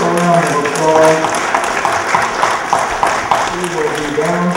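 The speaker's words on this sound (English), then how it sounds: "Give a round of applause" Applause from a church congregation at a book signing, a moderate wash of clapping that swells and fades with voices heard over it throughout.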